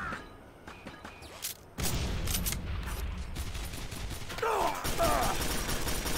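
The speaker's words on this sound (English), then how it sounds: "this guy's shooting at me with the grenades" Quake 4 gunfight with an enemy firing grenades, sharp bursts and booming blasts in quick succession after a quieter opening, dense and loud through most of the stretch.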